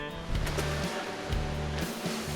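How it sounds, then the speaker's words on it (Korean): Steady rushing water from a mountain valley stream near a waterfall in Seoraksan, a broad continuous roar close by with a few louder thumps over it. "계곡에서 물소리는 요란하지만"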